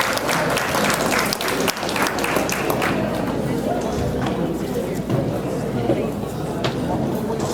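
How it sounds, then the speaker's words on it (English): Applause from an audience welcoming a Superior Court judge, a thick continuous wash of clapping lasting several seconds with crowd murmur and some voices mixed in. "let's give a round of applause to the Honorable Socrate Peter Manoukian"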